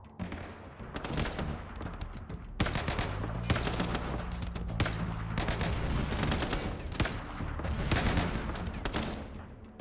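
Sustained video game gunfire as a squad opens fire, dense overlapping shots and bursts rattling continuously at close range, loud and busy throughout with no talking.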